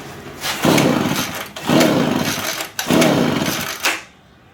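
Leaf blower engine being cranked with its choke on and throttle slightly open, failing to start: three loud, rough pull-start bursts about a second apart, each dying away without the engine catching.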